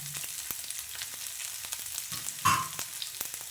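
Garlic frying in hot coconut oil while tempering lemon pickle, a continuous close crackling sizzle with a louder burst and stirring clatter partway through.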